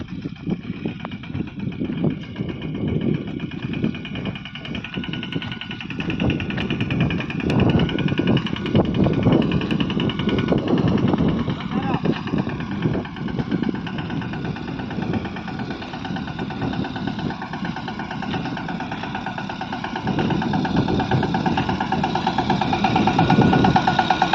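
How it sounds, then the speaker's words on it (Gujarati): A tractor engine runs steadily while pulling a makeshift cultivator rig through a cotton field, a continuous mid-pitched rumble with rattling vibration that stays loud and close and swells slightly toward the end. "જો આપણે આજે અહીંયા બેલી હાલે છે ટ્રેક્ટરમાં"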